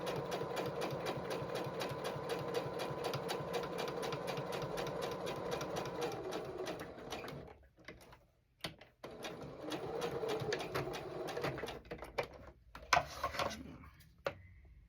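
A sewing machine stitches a zippered pouch, its rapid steady whirring running for about seven seconds, pausing briefly, then resuming in shorter bursts with small clicks as the fabric is turned at a corner.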